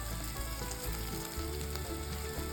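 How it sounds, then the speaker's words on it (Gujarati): A large onion sautéing in ghee makes a loud, dense, continuous sizzle with a low hum underneath, close and steady throughout, with no voices. "એ આપણે એડ કરીશું અને સાંતળી લઈશું ઘીની અંદર"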